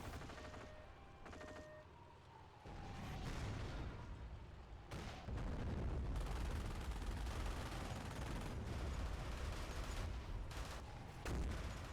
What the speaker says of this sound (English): they're calling down artillery on the bunker of Nix